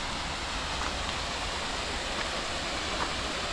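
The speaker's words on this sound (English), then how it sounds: "You can probably hear the waterfall" A waterfall at Woolbedding makes a steady, dense rush of water that stays broad and unbroken throughout, loud and close with no voices over it.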